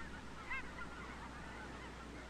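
Snow geese at Tule Lake refuge give a brief honk or two over a steady low background hum.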